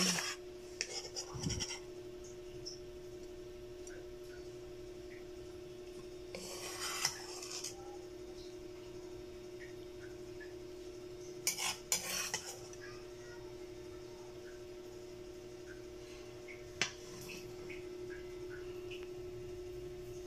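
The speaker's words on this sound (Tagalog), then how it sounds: "Kumakain na po ako ngayon. Unang subo." Cutlery clinks and scrapes against a plate during a meal of chicken-feet adobo, heard as a few brief, scattered bursts spread over a long stretch of steady background hum, with no talking.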